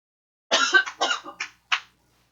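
A close, dry fit of coughing: five or six harsh coughs in quick succession, the last one after a brief pause, with silence around them.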